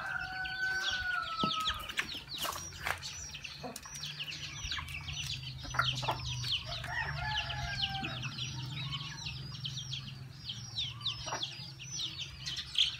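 Jersey Giant chickens at feeding time, a flock clucking and chattering continuously at close range, with scattered sharper calls and a low steady hum behind.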